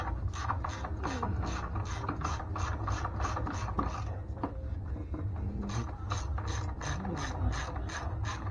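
A ratchet working the motor mount support bracket bolts on a 2008 Nissan Altima, giving a steady run of fast, close mechanical clicks with no voices over it.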